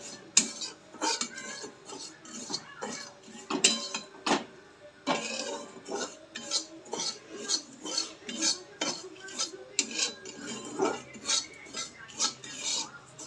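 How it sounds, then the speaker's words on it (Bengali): A spoon scrapes and clinks against a pan as semolina with bay leaf and cardamom is stirred, in steady repeated strokes at close range, with faint background sounds. "সুজিটা তেজপাতা দিয়েছি এলাচ দিয়েছি নিয়ে এবার নাড়াচ্ছি"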